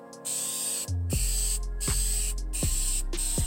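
Several bursts of hissing spray from an aerosol can of clear coat over a painted metal sign, each lasting under a second with short pauses between, close and fairly loud.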